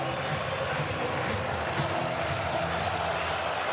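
A baseball stadium crowd of tens of thousands roars steadily on its feet in the bottom of the ninth of a Red Sox at Guardians game in Cleveland, a dense continuous wash of cheering with faint whistles rising above it.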